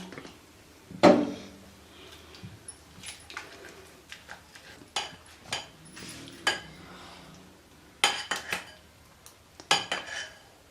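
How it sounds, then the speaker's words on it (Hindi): A spoon clinks and scrapes in a bowl while pakora batter for eggplant fritters is mixed. The irregular knocks and taps vary in loudness and are scattered over a quiet kitchen background. "और अब हम इसको मिक्स कर लेंगे।"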